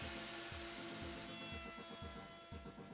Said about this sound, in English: Cut completely through the rails and into the coping sled.